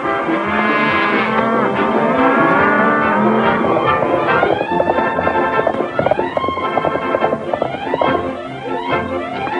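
Cattle being driven off the range, lowing and mooing in overlapping calls over a steady bed of hooves, horses and movement; loud and busy throughout, with no talk.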